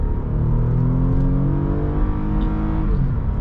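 A Lexus RX350 accelerates under throttle, its engine rising in a steady, rising drone heard from inside the cabin, loud and continuous with a low rumbling undertone.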